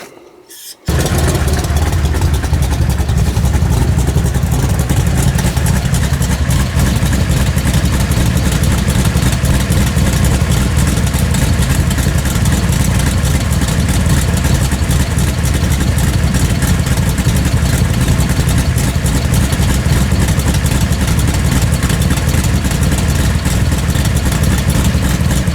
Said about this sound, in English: motor sounds pretty good. Except for that exhaust leak.